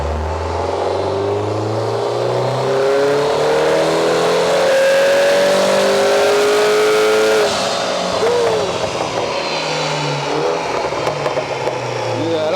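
A Mini John Cooper Works engine revs hard through a dyno power run, its pitch climbing steadily to a peak and then dropping off as the run winds down, loud and close with the room humming around it.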